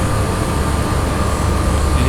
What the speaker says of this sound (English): you hear more of the compressor sounds, of just vibration